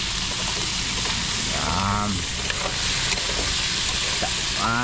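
Steady crackling sizzle like food frying in hot oil fills the clip, with brief bits of voice rising over it.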